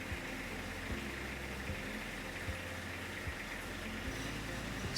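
A Kubota B2601 or B2301 compact tractor diesel engine idles steadily with a low, even rhythmic throb and faint background hiss, running alone.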